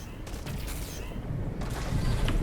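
Gunfire in the multiplayer shooter Lemnis Gate, a steady dense fusillade of rapid shots heard at moderate distance, continuous through the moment with low rumble beneath.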